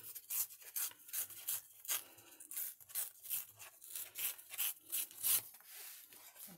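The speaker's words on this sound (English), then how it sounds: "So we're just going to rip these bits off." Paper ripped by hand for art journaling, heard as a series of short, close tearing bursts in an irregular rhythm, each a few tenths of a second long, with no voices.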